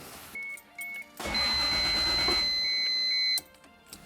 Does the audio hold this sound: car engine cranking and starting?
yes